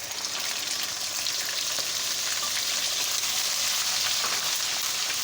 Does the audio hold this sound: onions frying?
yes